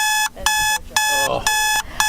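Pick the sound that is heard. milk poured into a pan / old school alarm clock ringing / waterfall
old school alarm clock ringing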